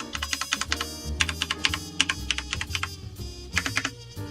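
Keys on a Cooler Master CMStorm Quickfire Rapid mechanical keyboard with slightly stiffer non-clicky switches are pressed in quick irregular bursts, a close series of sharp clacks with brief pauses and no speech.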